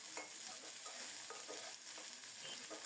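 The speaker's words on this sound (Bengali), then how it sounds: "পেঁয়াজটা লাল লাল করে ভাজা হলে চিংড়ি মাছগুলো দিয়ে দেব" Shrimp frying with chopped onion in hot mustard oil, a steady close sizzle with soft stirring scrapes running through without pause.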